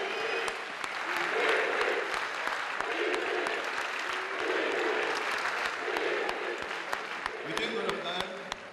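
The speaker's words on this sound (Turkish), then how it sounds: "Alkışlarımız onlar için." Large audience applauding steadily for the winning Zeybek folk dance team from İzmir Çiğli Public Education Centre at the 17th Turkish Folk Dance Competition; dense, sustained clapping fills the whole stretch with faint voices mixed in.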